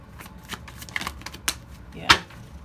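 Tarot cards are shuffled and drawn from a deck in quick, close riffling bursts and light flicks, ending in one sharper slap of cards.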